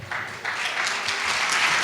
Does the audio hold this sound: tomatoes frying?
no